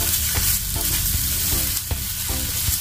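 Oil brushed over eggplant halves in a hot pan, giving a steady broad sizzle with soft scraping strokes and light clicks on top, close and continuous.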